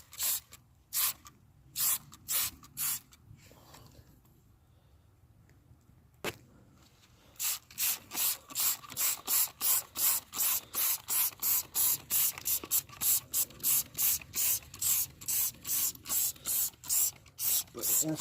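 Rapid rhythmic pumping bursts of a foam sprayer on car wheels, a short run, a pause with a sharp click, then a long steady series of spray strokes.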